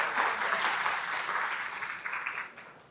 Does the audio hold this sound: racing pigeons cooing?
no